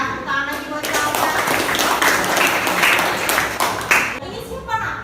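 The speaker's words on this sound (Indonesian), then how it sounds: "Benar ya, tepuk tangan lagi buat Zalfa." An audience claps for a young girl in a classroom-style quiz, a dense burst of many hands rising quickly and holding for several seconds, then dropping off as a voice speaks over the tail end.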